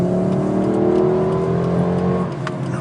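Interior hum of a car driving slowly, a steady low engine and road drone with a faint rising tone, close and loud, with no one talking.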